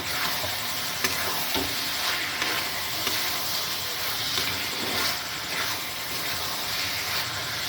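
Chilli chicken stir-frying in chilli, soy and tomato sauce makes a loud, continuous sizzle with bright hiss and scattered crackles, broken by occasional scraping stirs, with no voices.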